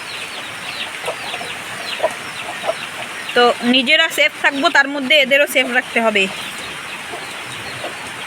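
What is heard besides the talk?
frightened chickens clucking during a flood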